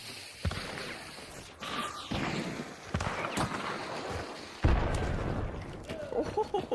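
Several muffled explosive booms and pops from a video game frag grenade, spread across the stretch with a heavy blast near the end, set against steady game noise and a talking player.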